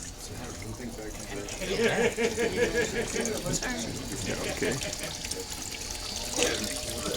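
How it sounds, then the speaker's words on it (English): Water pumped through a tunnel swirls and splashes in a continuous rushing gurgle, fairly close, while people talk over it briefly. "Water, pumping it in past the tunnel. So it's trying, the water is spinning and trying to climb and then comes out."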